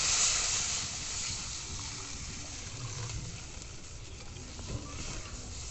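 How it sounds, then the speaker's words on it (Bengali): Water poured into a hot pan while cooking Bengali rui fish curry gives a steady, fairly quiet rushing hiss with a faint sizzle that continues evenly throughout. "এরপর আমি দিয়ে দিব জল। দিয়ে দিচ্ছি জল।"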